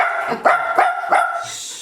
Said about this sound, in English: Every time I point it out, he starts to bark.